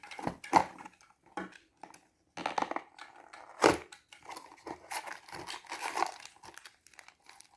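Surprise box packaging being torn open, with crinkling and crumpling paper, sharp tearing bursts and rustles in an irregular rhythm, close and fairly quiet, no talking.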